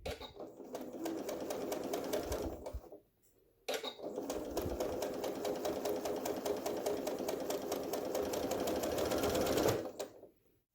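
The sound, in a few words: Janome Skyline S7 sewing machine stitching a quarter-inch seam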